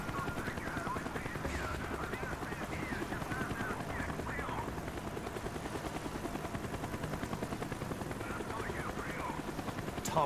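A helicopter's rotor thumps steadily in the background of a Call of Duty: Black Ops scene, faint and continuous, with a voice speaking over it.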